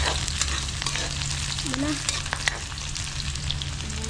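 Onions fry in a pan with a steady close sizzle and crackle, and a short spoken word passes over the top.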